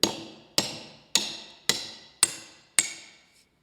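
A hammer drives bolts into wood with six sharp, evenly spaced metallic strikes about half a second apart, each ringing briefly before the next, close and clear with no talk.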